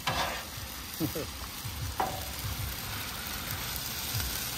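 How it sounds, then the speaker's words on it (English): Iguana meat fajitas sizzle loudly in a pan at a base camp, a steady close crackle broken by a few clattering stirs of a utensil, with no talk over it. "So I let this go ahead and cook and simmer till them get nice and soft"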